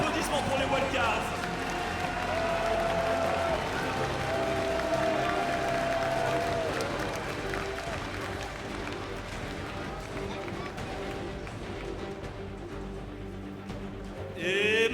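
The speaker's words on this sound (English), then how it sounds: "Des applaudissements pour les wildcards." An arena crowd at the 2015 League of Legends World Championship claps in a steady, dense wash of applause that fills the hall, with an announcer's amplified voice carrying over it.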